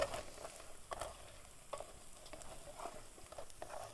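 Fish or shrimp frying in a pan, a quiet, steady sizzle with soft crackles and occasional stirring scrapes, close and alone without talk.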